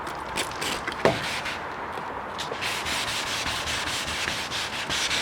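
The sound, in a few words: light sanding of car body primer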